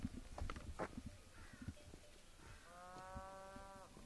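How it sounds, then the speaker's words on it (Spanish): Cattle in a mountain pasture give a few distant moos, with one long, clear lowing call near the end over faint background rustling and soft thuds. "Y ahí tenemos de fondo las vacas"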